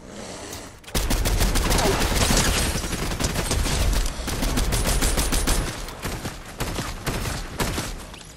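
Rapid bursts of gunfire in Fortnite crackle loudly and almost nonstop for several seconds, with sharp shots and boomy blasts stacking over each other and a brief quieter gap near the start.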